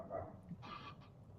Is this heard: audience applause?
no